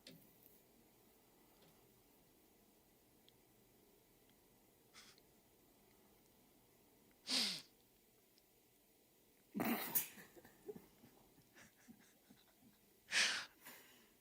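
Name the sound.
dog in a played short video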